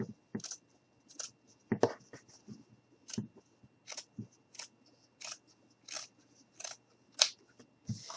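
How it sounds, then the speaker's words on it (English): Scissors snipping blue jean fabric, a string of crisp close cuts in an uneven rhythm, roughly a dozen bright metallic snips over a quiet background. "I'm just going to go ahead and trim this end up the best I can."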